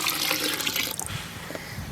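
Pink dye liquid pours onto alpaca yarn in a dye pot, a close, splashing pour that tapers off into drips and gurgles, with no voices.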